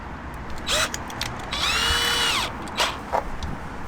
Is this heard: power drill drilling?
yes